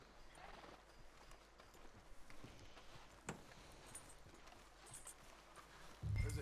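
Horse hooves clip-clopping in the Red Dead Redemption 2 video game, a faint, loose patter of steps on the ground that carries on throughout, with a louder low rumble swelling at the very end.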